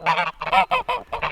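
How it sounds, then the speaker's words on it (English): Geese kept below a market garden honk loudly and close, in a rapid run of harsh, nasal calls with short gaps between them. "we've put the geese here for a special reason because they're very noisy still"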